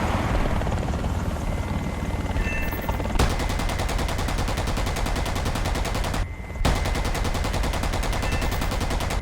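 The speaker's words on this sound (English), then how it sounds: "Beautiful shot with the cannon there." AH-64A Apache chin cannon firing in War Thunder over the helicopter's steady rotor and engine drone, rapid continuous bursts broken by a short gap, loud and close.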